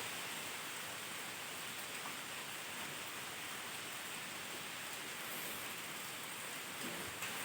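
Steady rain falls in a soft, even hiss that continues without a break, fairly faint and with no one speaking.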